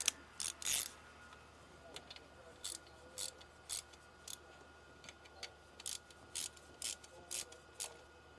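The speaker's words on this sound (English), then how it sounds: "So let me get a wrench. I'm going to tighten those guys." Ratchet wrench tightening 10 mm bolts on a Mercedes GLS 450 M276 engine during camshaft phaser work, a series of quick clicking bursts in a steady rhythm, close and fairly faint in a quiet shop.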